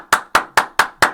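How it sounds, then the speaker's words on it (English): Hands clap five times in a steady, quick rhythm, loud and close, each clap sharp and evenly spaced with nothing else heard. "Clap it up."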